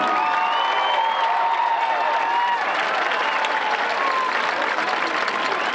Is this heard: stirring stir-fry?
no